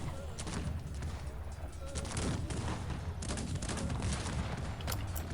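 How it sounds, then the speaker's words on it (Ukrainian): Rapid booming cannon shots fire over and over in the video game Cossacks 3, dense and loud, with a steady rumble of battle noise beneath. "Гармати. Стріляйте."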